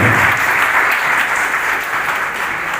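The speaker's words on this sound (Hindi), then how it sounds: "जोरदार तालियों से स्वागत करते हुए सर का" An audience at a police peace committee meeting applauds loudly to welcome a deputy commissioner of police to the dais, a sustained, even wash of clapping from a large crowd.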